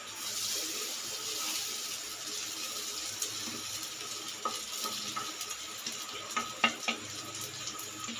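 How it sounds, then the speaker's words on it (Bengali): Raw rice stir-fried in a kadai for polao, a soft sizzle under intermittent scraping and stirring clicks, with a few sharper knocks of the spoon against the pan, quiet and close. "এবারে আমরা এটাকে মিনিট 5 ভালো করে কড়ায় ভেজে নেব"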